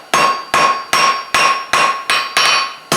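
A hammer strikes a hot steel leaf on an anvil in a forge, seven sharp ringing blows at an even, fairly quick rhythm, loud and close, with no voices.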